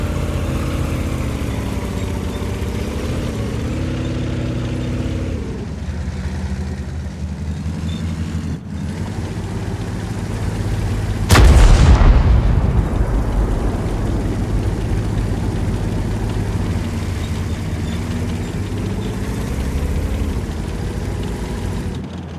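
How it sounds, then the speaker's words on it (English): World of Tanks battle: tank engines rumble steadily throughout, and a single loud, booming cannon shot lands midway, followed by the engines droning on. "you kind of get an idea what the tank sounds like and what the battles sound like now"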